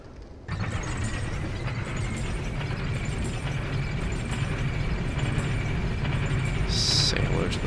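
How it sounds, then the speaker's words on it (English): An elevator in the video game Dark Souls II runs with a loud, steady mechanical rumble and grinding drone that starts abruptly and holds without a break, with a short higher clank near the end. "So I'm going to take the elevator."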